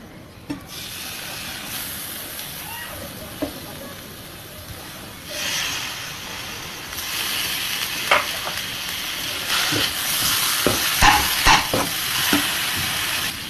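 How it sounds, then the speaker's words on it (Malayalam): Washed chicken pieces drop into masala frying in a pan, setting off a steady broad sizzle with scraping stirs that grows louder partway through, with several sharp clatters near the end. "ഇതിലേക്ക് നമുക്കിനി കഴുകി വെച്ച ചിക്കൻ പീസ് ഇട്ട് കൊടുക്കാം."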